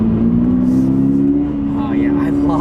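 A 2022 Toyota GR86 sports car engine hums at steady revs while cornering, a strong droning tone from inside the cabin that shifts slightly in pitch, with a voice talking over it.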